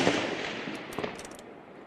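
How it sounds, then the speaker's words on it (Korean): Sniper rifle gunshots fired by elite snipers at a military shooting range, a short burst of distant sharp cracks and reports in quick succession, moderately faint. "거리별로 다양한 표적을 향해 정밀 조준 사격을 실시합니다."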